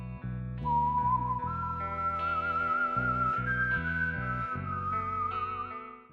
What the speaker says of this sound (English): or Joe's whistle